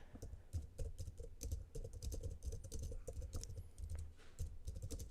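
Rapid typing on a computer keyboard, a dense quiet patter of key clicks and thuds at close range, continuous throughout with no voices.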